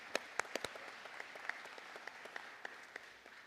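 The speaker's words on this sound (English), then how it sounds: "Yeah, we can clap for that." A diocesan convention audience applauds faintly at a distance, with scattered individual claps fading out over a few seconds.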